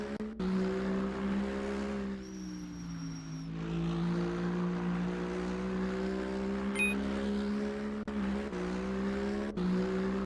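GT racing truck in a sim racing game, a steady droning engine tone that dips and rises through a turn, heard fairly faintly with small clicks and shifts.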